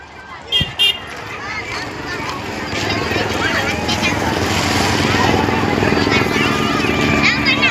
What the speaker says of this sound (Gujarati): જોરદાર રીતે સરસ મજાનું હેલિકોપ્ટર પણ પુષ્પવર્ષા કરી રહ્યું છે